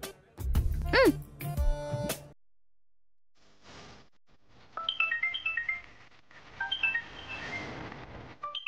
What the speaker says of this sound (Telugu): నాన్న మీకు ఫోన్.